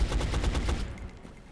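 Rapid gunshots from X-Com: Enemy Unknown crack in a quick volley of about six or seven close, loud reports, then trail off into fading echo.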